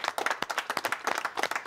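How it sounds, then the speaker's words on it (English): A group of people on a timed garden makeover TV show gives a round of applause: brisk, close, uneven hand claps that run steadily, with no talking over them. "Round of applause, everybody."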